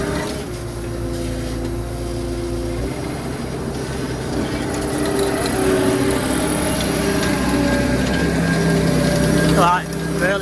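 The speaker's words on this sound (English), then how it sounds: "This is driven by that hydraulic motor." Hydraulic motor driving farm machinery in a wheat-stacking yard gives a steady mechanical drone with ratcheting, geared clatter that swells in the middle and ends with a brief rising whine, loud and continuous throughout.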